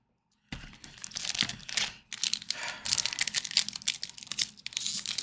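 Foil wrapper of an Attack on Titan Union Arena trading card booster pack crinkling and tearing up close, with bursts of sharp rustling after a brief silent start and a short pause midway.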